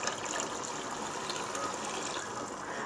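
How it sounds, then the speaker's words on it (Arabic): Water pours steadily into a pot holding rice and lentils, a continuous gushing hiss at even loudness from start to finish, with no voice over it. "هنزل شوية مية"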